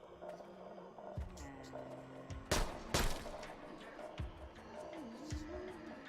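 In Arizona Sunshine's horde mode, two or three sharp gunshots crack close by from a raised position, standing out over a low hum of game music and ambient sound.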